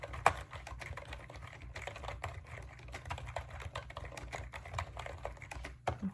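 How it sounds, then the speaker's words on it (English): Steady typing on a computer keyboard during an eye exam roleplay, with quick, close, soft key clicks in an irregular rhythm that continue throughout, no talking. "I'm just going to type up some results that you just had for that"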